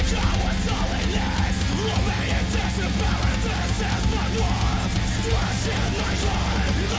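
Harsh screamed metal vocals over a dense, loud full-band mix of distorted guitars and pounding drums, steady and continuous throughout.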